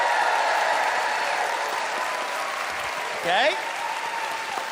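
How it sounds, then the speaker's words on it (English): Studio audience at a comedy debate show applauding to vote for a winner, steady sustained clapping with a brief voice speaking near the end. "It is up to you to pick the winner by applause."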